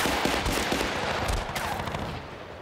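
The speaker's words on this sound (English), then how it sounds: "Who is shooting me through?" Rapid automatic gunfire in the video game Battlefield Bad Company, dense bursts of shots crackling continuously over a few seconds, fairly loud and close.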